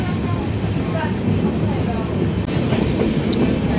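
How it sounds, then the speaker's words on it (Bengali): A passenger train rolls along a curving hill line with small tunnels and bridges between Mizoram and Kolkata, giving a steady, close, dense rumble of wheels and carriage noise with faint background voices throughout. "ট্রেন এরকমভাবে বেঁকে যাচ্ছে, আঁকা বাঁকা পথ দিয়ে আমাদের যেতে হচ্ছে।"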